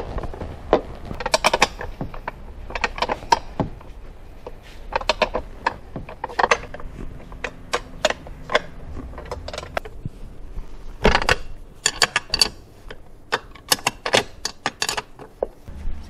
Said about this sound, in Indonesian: untuk melepasnya kita tinggal mengendorkan dari mur ini ya, tapi nggak usah sampai dilepas, dikendorkan saja depan belakang